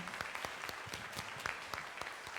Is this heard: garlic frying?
no